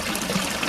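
Spring water runs and splashes in a short, steady, close trickle with no voices over it.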